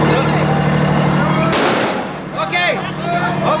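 Gunfire from Israeli troops crackles amid a constant loud background hum, with a sharp broadband burst midway and scattered cracks afterward.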